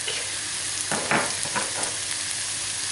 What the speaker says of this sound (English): we saute the onions until they're soft, alongside the garlic and the ginger